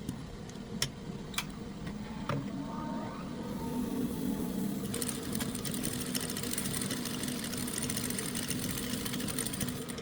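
A sewing machine stitches the edges of a kimono jacket, a steady rapid mechanical whirring with a few sharp clicks early on, close by and continuous without talking.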